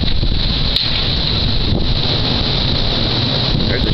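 Strong night wind in Western Pennsylvania roars steadily and loudly, buffeting the microphone with a constant rushing blast and a brief thump partway through.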